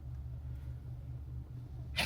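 A single sharp sneeze bursts out near the end of a quiet room's low hum, close and brief, with no talking around it.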